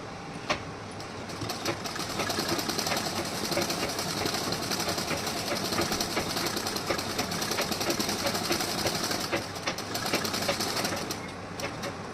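An electric sewing machine runs a continuous double line of stitching on a blouse, its rapid mechanical whir and clatter starting after a moment and running steadily for several seconds before slowing to a stop.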